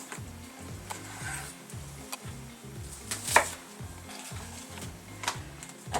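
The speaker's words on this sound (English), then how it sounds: "Turn the heat down and chop the veg." Knife chopping chunky onion for a beef stew on a board, a steady rhythmic series of close, even thuds and taps with a faint kitchen hum behind.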